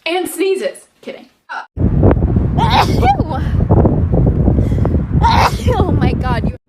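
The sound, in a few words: woman sneezing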